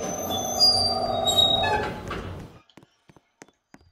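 A train in a video game elevator level rumbles and squeals, then cuts off sharply, leaving only a few scattered faint clicks.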